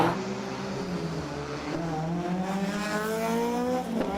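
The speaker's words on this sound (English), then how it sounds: "We hear cars roaring round." Rally cars, including a 1970s Sunbeam, roar past on the 2015 Circuit of Ireland Ards TT special stage with rising, revving engines and a steady rumbling drone, moderately distant and continuous.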